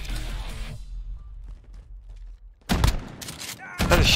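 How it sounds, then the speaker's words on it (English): Loud, close bursts of shotgun fire in Call of Duty Modern Warfare 2019 beta gameplay, a few heavy blasts following a quieter stretch after a voice. "That's a shotgun? That distance?"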